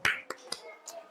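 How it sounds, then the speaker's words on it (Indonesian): Students in a classroom give a quick round of hand claps, about five sharp, fairly quiet strikes in a slightly uneven rhythm. "Tepuk tangan sekali lagi."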